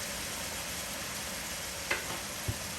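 Vegetables for pastalaya sweat in a pot with a quiet, even sizzle, and two brief knocks from a spoon near the end.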